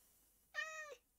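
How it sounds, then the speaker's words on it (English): Minecraft cat giving a single clear meow, short and close, alone against near silence. "We got a kitty cat."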